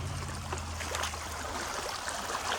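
Shallow water sloshes and trickles around someone wading slowly through it outdoors, a faint, continuous splashing and gurgling with a low rumble underneath and no talk.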